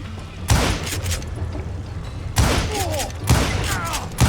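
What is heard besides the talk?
gunfire in a video game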